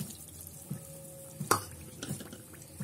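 A spoon stirs sugar and yeast into warm milk, giving soft, steady clinks against the container about every half to three-quarters of a second, with one sharper knock midway and no voices.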